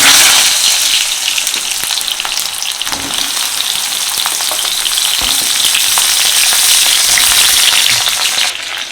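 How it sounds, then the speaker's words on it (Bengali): Cut pointed gourd pieces frying in hot mustard oil, a loud continuous crackling sizzle close by with occasional stirring clatter, no talk. "এই তেলের মধ্যে আমরা আগে থেকে কেটে রাখা পটলগুলো ভেজে নেব।"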